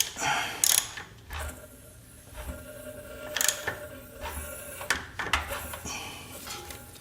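A ratchet clicks as it backs the crankshaft of an Indian ThunderStroke 116 motorcycle engine, with irregular metallic ratcheting and clanks near and moderately loud, broken by short pauses.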